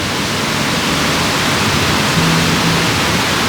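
A waterfall in North Wales roars as a steady, loud broadband rush with no break, sounding close by from a lower viewpoint.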